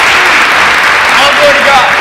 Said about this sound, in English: So can I get a round of applause for God real quick?